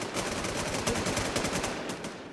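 Rapid video game gunfire rattles in dense, overlapping bursts, loud and continuous throughout, with no voices over it.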